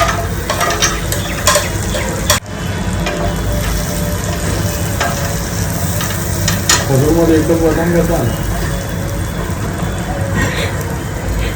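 Dates fried in butter in a pan produce a loud, continuous sizzle with stirring scrapes and one sharp knock, under occasional talk.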